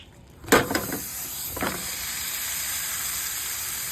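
Ground beef drops into a hot frying pan with a sharp crackle, then a second burst, followed by a steady, even sizzle that continues throughout.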